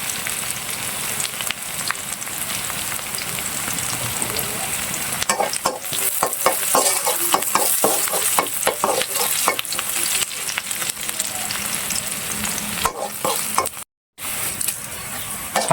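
Frying in a pan while cooking a Bengali red lentil (masoor dal) dish: a continuous close sizzle with bursts of rhythmic stirring scrapes in the middle, a brief drop-out near the end, no voices.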